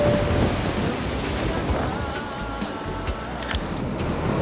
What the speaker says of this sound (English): Bonsai Pipeline is fun to just come out to see how big the waves are